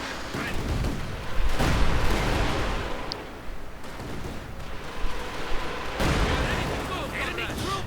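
Battle sounds from Company of Heroes 2 rumble through a 1v1 match, with booming artillery, explosions and bursts of gunfire as grenadiers advance under heavy fire, while a commentator talks over the din.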